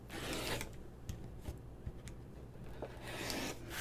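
A rotary cutter trims a quilt block of purple and orange fabric into a 4.5 inch half square triangle, making soft rubbing, scraping strokes with a few light clicks, close and fairly quiet, with no talking.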